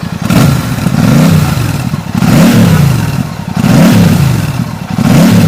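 Royal Enfield Classic 650 motorcycle under way, its engine revving up and easing off in repeated swells about every second and a half, loud and close with a throaty exhaust note.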